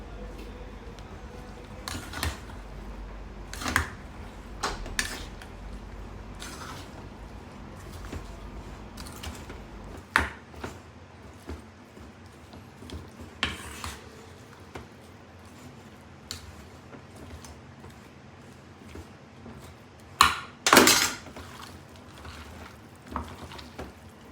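A ladle stirs chicken biryani masala with coriander powder in a pot for Seeraga Samba Malabar biryani, making scattered soft scrapes and clinks that come in irregular bursts over a quiet background.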